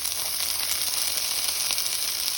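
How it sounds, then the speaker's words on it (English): Barbacoa birria tacos crackle and sizzle steadily on a hot griddle, close and continuous, with no talking. "I don't know if you can hear this above the sizzling"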